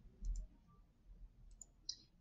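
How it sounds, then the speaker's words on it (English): A computer mouse clicking during a Google Drawings session, a few faint, quick, crisp clicks spread apart in a quiet room with no talk. "I'm just clicking on each side when I want to change the color."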